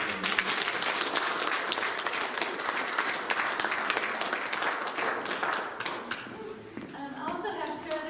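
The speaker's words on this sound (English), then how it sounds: "give our kids one more round of applause for the work that they did" A Christmas recital audience applauds the young performers, loud dense clapping that carries for about six seconds before thinning, after which softer voices and faint tonal sounds take over.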